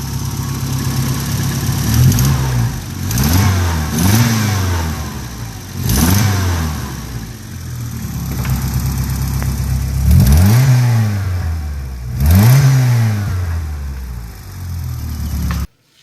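A car with a loud 3-inch straight-pipe exhaust revs hard again and again, each blip rising and falling sharply over a rumbling idle, close and powerful.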